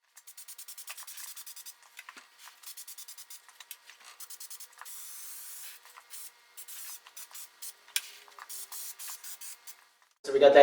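Heavy upholstery glue sprayed onto the seat back padding of a Triumph Spitfire Mk2/3 seat in a series of short hissing bursts, a steady longer blast midway, and a louder clatter at the end.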